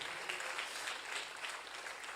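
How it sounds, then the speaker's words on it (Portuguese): Church congregation applauding during a worship service, a soft, steady patter of many hands that stays fairly distant and even throughout, with no one speaking over it. "Vai aplaudindo a Deus aqui."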